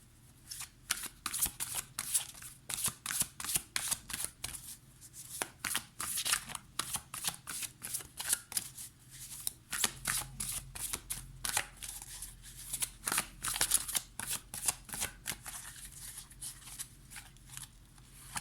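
Tarot cards are shuffled over and over, giving close, crisp riffling and flicking bursts in a steady, irregular rhythm with no talk.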